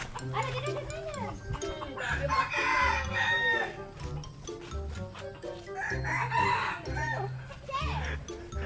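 Chickens cluck and squawk repeatedly up close in a village yard, agitated calls rising in clustered bursts while people, including children, talk over them.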